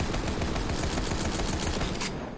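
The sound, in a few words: Lyuda rifle firing in Borderlands 3 video game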